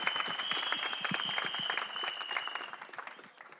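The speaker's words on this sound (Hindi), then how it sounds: "तालियां होनी चाहिए" An audience at a film teaser launch event applauds steadily for a few seconds, with dense, close clapping that tapers slightly toward the end.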